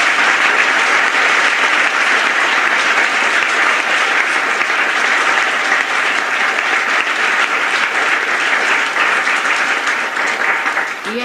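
A crowd applauds Yogi Mahajan during a 1984 Holi talk in Delhi, India. The dense, loud clapping holds steady for the whole stretch and fades slightly at the end.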